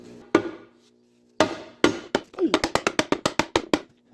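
A few loud single hammer strikes, then a fast run of sharp metallic blows, close by and evenly paced, while fitting a power steering pump reservoir on a Chevrolet Blazer.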